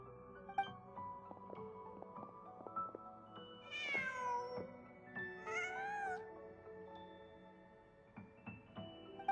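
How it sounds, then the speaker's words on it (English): A cat meows twice inside the Genshin Impact game world, two rising, tonal calls a couple of seconds apart, set over a steady bed of layered game music and ambience, with no voices. "Just a cat."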